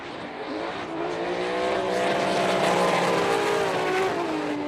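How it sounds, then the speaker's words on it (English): Formula Drift Japan cars at Fuji International Speedway launch together and slide into a drift, loud engines rising in pitch with tire squeal, continuous and close throughout. "Looks like both cars are in drift."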